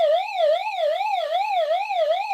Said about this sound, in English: So it does have a very loud siren in here to attract attention